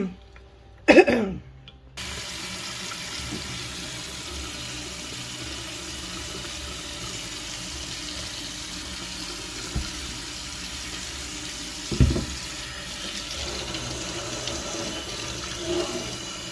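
A kitchen sink tap runs steadily while a pot is rinsed, a continuous close water rush with a few clunks of the pot against the sink.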